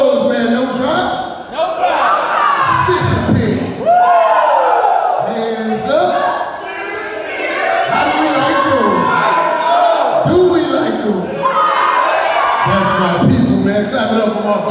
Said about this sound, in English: Clap it up for my bowlers, man.